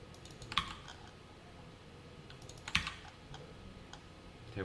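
A few isolated keystrokes on a computer keyboard, sparse and fairly faint, clicking in two or three small clusters against a quiet background with no talking.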